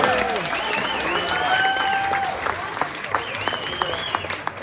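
A tour group applauds the dinner staff at an evening meal, a sustained round of clapping with voices and whoops mixed in, a few louder individual claps near the end.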